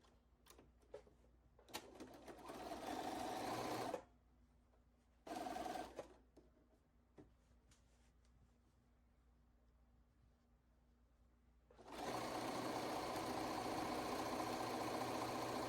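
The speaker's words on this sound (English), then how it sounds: "as you sew, try not to pull the fabric from behind the needle. Just guide it gently, let the feed dogs move it through the machine." A home sewing machine stitches fabric for a baby quilt, running in steady whirring bursts at close range: a short run, a brief second run, then a long continuous run with quiet handling noises between.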